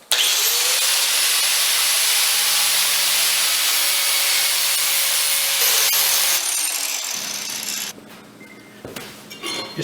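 A 4.5 inch angle grinder fitted with a King Arthur's chainsaw blade attachment gouges into a log, a loud steady high whine that runs for several seconds, then winds down into scraping and knocks.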